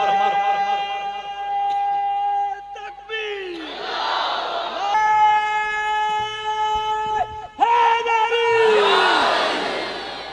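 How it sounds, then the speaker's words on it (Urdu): At a religious gathering in Chiniot, a crowd shouts a slogan: a drawn-out, amplified leading call rings out, then a roaring mass response answers, and the exchange repeats twice, loud and echoing. "آج تُسا ایک وری نعرہ مارو"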